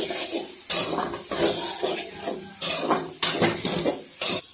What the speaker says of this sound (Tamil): இந்த நேரத்தில் எறாவை சேர்த்துக்குவோம். மிக்ஸ் பண்ணி விட்டுருங்க.